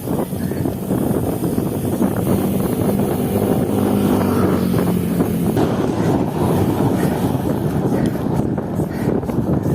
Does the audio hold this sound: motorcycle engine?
yes